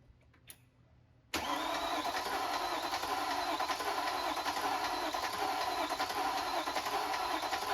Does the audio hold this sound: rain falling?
no